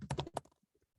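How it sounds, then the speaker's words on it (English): Quick burst of typing on a computer keyboard, four or five close crisp key clicks in rapid succession followed by a few faint scattered taps, quiet and alone. "I can start typing"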